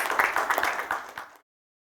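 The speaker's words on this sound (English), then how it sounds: "Please welcome Mr. Salunke with a great round of applause" An audience at an industry and SME summit gives a round of applause to welcome a speaker, a brief dense patter of many hands clapping that thins out and stops after little more than a second.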